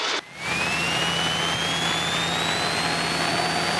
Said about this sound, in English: you can go full power